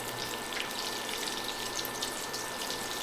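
Eggplant slices frying in a pan of oil for homemade eggplant lasagna, giving a steady, close, continuous sizzle and crackle with no talking.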